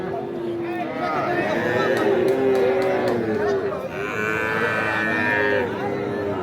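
Two young heifer calves moo repeatedly at a livestock market in Aftabganj, Dinajpur, with long drawn-out close calls over background crowd chatter.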